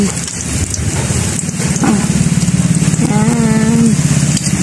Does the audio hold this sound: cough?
no